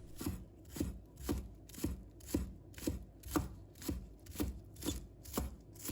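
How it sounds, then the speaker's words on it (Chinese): Knife chopping scallion whites into fine bits on a cutting board, steady rhythmic thuds about two per second, close and clear with no talk. "把葱白和葱叶分开切，葱白给它切末"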